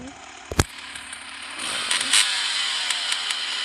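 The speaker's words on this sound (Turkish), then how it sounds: "nasıl motosiklet sesi geliyor" A sharp click, then a motorcycle engine revving up and holding a rough buzzing drone, moderately loud and steady.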